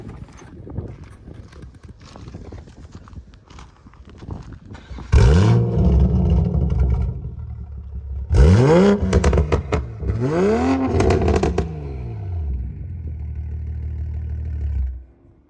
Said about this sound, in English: Also got the dual titanium Catback exhaust system from Tomei.